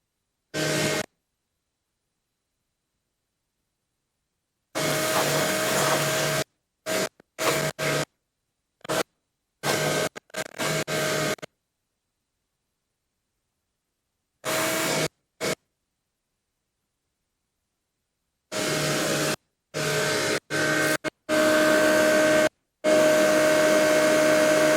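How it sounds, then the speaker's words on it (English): A DeWalt DXV12P shop vacuum roars loudly, reaching about 89 decibels, in short bursts, switching on and off repeatedly with silence between runs, then running steadily at the end. "we can hear the noise coming from the vacuum cleaner"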